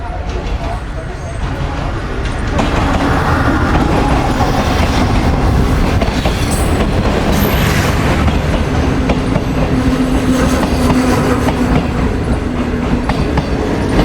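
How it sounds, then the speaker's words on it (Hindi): Shalimar Express train pulling into a station platform on the Bahawalpur to Karachi route, a steady rumble of railcars that grows louder after the first couple of seconds, with voices talking over it. "ट्रेन जो है माशाल्लाह लग गई है प्लेटफॉर्म पर"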